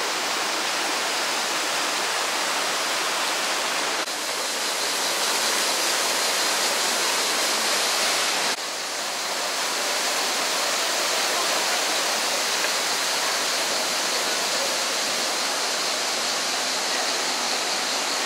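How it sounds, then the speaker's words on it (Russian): A steady, loud roar of rushing water from a waterfall in Sapadere Canyon, continuous broadband noise with slight shifts in intensity, no voices. "Водопад."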